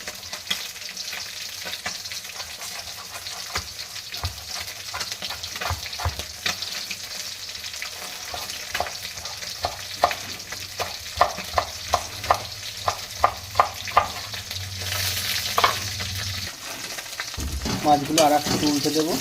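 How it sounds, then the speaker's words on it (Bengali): Bata fish frying in hot oil, a steady sizzling crackle with clusters of sharp pops and spatters near the middle, then a brief clatter of utensils at the end; no talking. "মাছগুলো ভাজা হতে হতে আমি ধনিয়াটা চপ করে দেব।"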